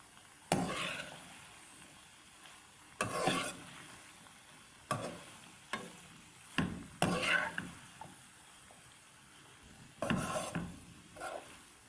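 Spoon strokes scrape and stir a noodle mixture with soy sauce and vinegar in a pan, several separate rasping bursts with pauses between them over a faint sizzle, close up and with no voices.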